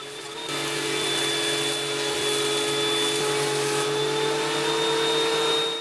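A jointer's knives shave the curved edges of wooden barrel staves, a steady loud machine whine with a high tonal hum, running continuously from a brief quiet start to the end.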